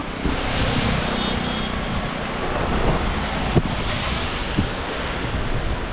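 A strong, continuous rush of wind ahead of heavy rain roars and buffets the microphone, with a couple of brief knocks; no one speaks.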